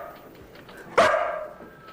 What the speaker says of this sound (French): D'où vient ce chien?